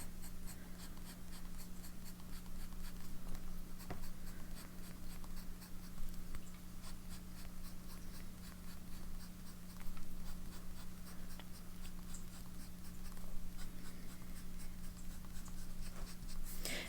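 Soft scratching of a broad-nib fountain pen moving across paper, continuous close strokes with small ticks, faint over a low steady hum.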